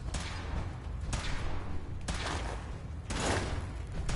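Weapon fire in Fallout 4 comes as roughly four heavy, evenly spaced blasts, each loud and close with a rumbling tail, and no talk is heard.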